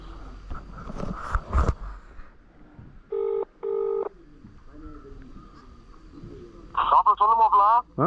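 During a monsoon motorcycle ride around Valparai, a phone call is placed: two short electronic tone bursts sound near the middle, followed later by a louder warbling ring, with quiet background noise and some talking around them.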